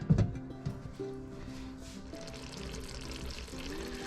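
Hot water is poured into a pot of partly cooked potatoes and spices for pea and potato pilau, a brief close splash followed by a soft, steady trickle and faint sizzle.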